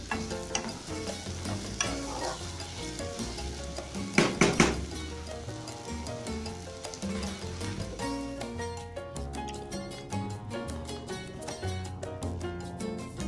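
Garlic, ginger and pimento sizzle as they are stirred in a frying pot for Jamaican-style brown stew butter beans, with crackling frying, scraping spoon strokes and a brief louder clatter partway through.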